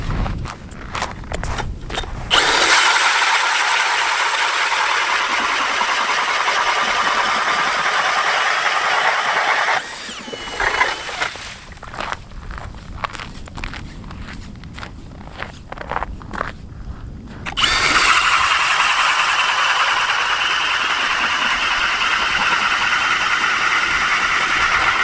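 Ice auger drilling holes through the ice of a frozen lake, a loud continuous motor whine running in long bursts with brief pauses between holes, footsteps and shuffling in the gaps, no talk.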